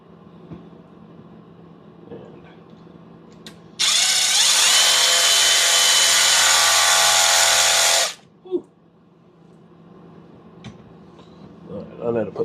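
A power drill whirs loudly for about four seconds, steady and high-pitched, between quieter stretches of faint knocks and handling sounds.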